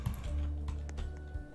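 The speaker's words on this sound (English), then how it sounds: "I'm just sitting over here typing." Quiet, rapid keystrokes clatter on a computer keyboard in an irregular burst, close but faint, with a soft background hum and no speech.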